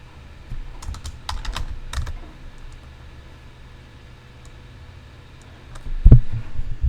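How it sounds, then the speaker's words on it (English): Password being typed on a computer keyboard while logging into an account: a quick run of close keystroke clicks in the first two seconds, then low room hum and a single soft thump near the end. "And here type in my password and solve the CAPTCHA."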